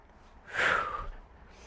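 A single deep, forceful exhale during a full-body workout, breathy and fairly close, rising quickly and tailing off over about a second with no talking.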